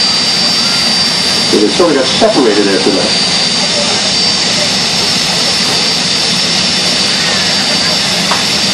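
A loud, steady jet dragster engine roar fills the whole clip at a drag race, with a voice talking briefly over it near the start.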